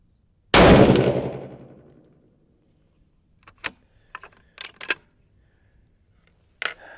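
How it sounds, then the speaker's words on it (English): A 6mm Creedmoor rifle fires one loud, sharp shot at a 200-yard range, and the blast decays over about a second and a half. Faint clicks and metallic handling noises follow. "Let me take one more shot and see if that was just a cold bore shot."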